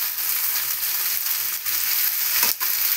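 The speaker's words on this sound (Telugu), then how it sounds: "ఇది ఒక 1 minute అట్లా వేపిన తర్వాత" Chopped ridge gourd and cluster beans fry in a hot pan with a dense, steady sizzle. A few soft stirring scrapes break into it, and nobody speaks.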